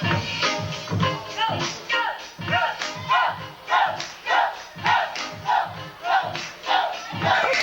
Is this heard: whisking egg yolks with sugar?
no